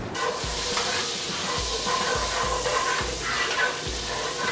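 Spices bloom in melted butter and oil in a skillet, a steady close sizzle and hiss with a soft rhythmic scrape of stirring underneath, continuous throughout.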